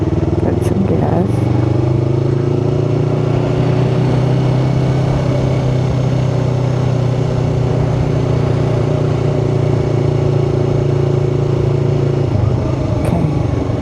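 A Yamaha R3 motorcycle engine drones steadily under load from the rider's seat, a loud, close, even hum that changes pitch near the end, with wind noise throughout.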